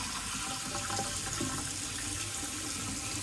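A G-Shock GW-800 watch is rinsed under running tap water, giving a steady, soft splashing hiss for a few seconds with no voices.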